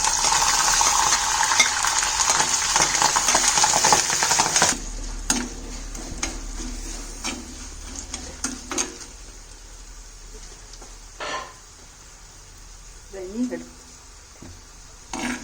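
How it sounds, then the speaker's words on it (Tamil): Kanthari chillies sautéing in a pan, starting with a loud, dense sizzle for the first few seconds, then quieter stirring with scattered scrapes and clinks of a utensil against the pan. "அடுத்தது காந்தாரி மிளகு நம்ம வதக்க போகிறோம்"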